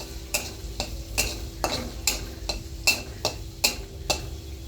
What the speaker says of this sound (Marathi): ह्याच्यामध्ये आपण टाकूया कांदा. हे आपण छान परतून घेऊया.